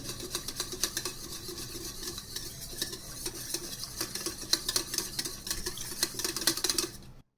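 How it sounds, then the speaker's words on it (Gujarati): A hand beater whisks chocolate appam batter in a bowl, making a brisk, rhythmic scraping and clinking against the sides, close and fairly quiet, continuous for several seconds before stopping abruptly, with no talking. "હવે આ બધી વસ્તુને બીટરથી મિક્સ કરી"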